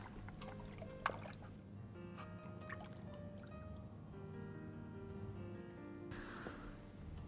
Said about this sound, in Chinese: 然后放入清水中清洗干净。